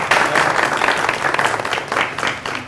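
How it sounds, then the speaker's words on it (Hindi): Dense, loud audience applause fills a poetry gathering in an Adbi Chay Khana hall, a continuous wash of many hands clapping with no voices standing out. "भरपूर तालियां होनी चाहिए।"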